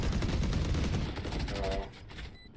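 Rapid bursts of gunfire in a tactical shooter video game, dense overlapping shots and automatic fire filling the first two seconds before thinning out, with faint background chatter.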